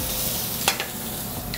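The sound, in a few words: shrimp sizzling as it is sauteed in a pan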